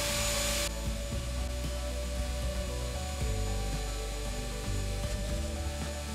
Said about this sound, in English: I'm using the vacuum cleaner to kind of help trap and catch the dust.